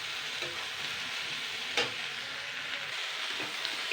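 Okra with egg stir-fried in a kadai on medium heat, giving a steady close sizzle and hiss with occasional soft scrapes and taps of the spatula.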